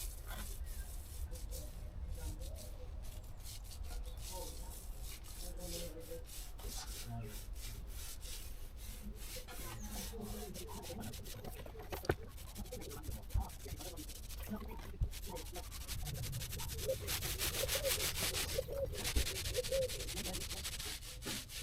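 Paint roller spreading a coat of paint over tarmac with an extendable handle: continuous soft rubbing and swishing strokes, close up, growing louder toward the end, with faint background noise.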